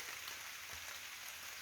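Rain falling in a natural setting among wild pines, a steady broadband patter on leaves and surfaces throughout, fairly faint and even with no voices.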